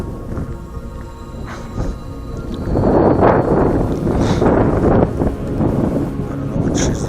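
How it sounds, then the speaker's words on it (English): Strong wind buffeting a Parrot Bebop 2 drone in flight, a steady rushing roar that swells louder partway through and stays heavy, with a faint background hum. "There's a lot of wind."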